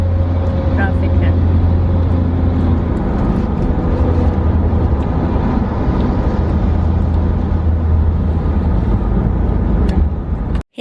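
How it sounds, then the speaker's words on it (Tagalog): Steady road traffic on an American street, with cars and a bus rumbling past in a continuous loud wash and a low engine drone. "Traffic na."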